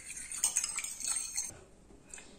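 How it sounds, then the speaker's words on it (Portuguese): A utensil stirs a bread dough mixture in a bowl, giving a quick run of close clinks and scrapes for about a second and a half before it fades to near quiet. "Misturar aqui pra molhar eles depois,"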